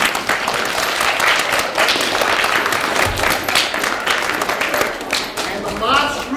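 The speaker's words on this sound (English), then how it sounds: "should give you a round of applause because you've been wonderful" An audience of young people at a reading event breaks into sustained applause, a dense wash of clapping with voices mixed in.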